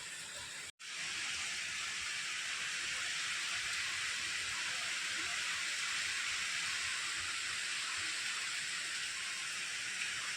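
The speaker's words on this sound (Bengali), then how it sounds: "বাইরে কি হারে ঝড় বৃষ্টি হচ্ছে তোমরা দেখতেই পাচ্ছ সেটা।" A storm brings heavy rain down outside a house, a constant hissing roar of rainfall after a brief cut near the start.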